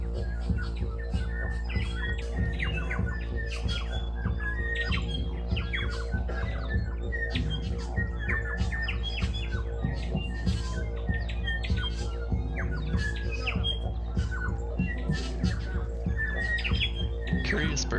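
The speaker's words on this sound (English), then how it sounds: "many of the bird songs you hear in these videos are from bellbirds or tui" New Zealand forest birds, bellbirds or tui, call in repeated short squawks, chirps and whistles spread evenly through a quiet, steady background, moderately distant.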